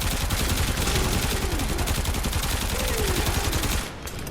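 Rapid, steady automatic gunfire from the video game Warframe, a dense continuous stream of shots that runs for several seconds before cutting off near the end.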